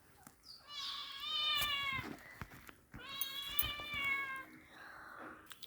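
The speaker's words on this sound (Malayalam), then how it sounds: "ഞാൻ ബാക്ക് ക്യാമറയിൽ കൂടി കാണിച്ചു തരാവേ പൂച്ചക്കുട്ടീനെ" A kitten meows twice, close and clear, each call long and drawn out with a short gap between them, then a fainter sound at the end; there is no talking.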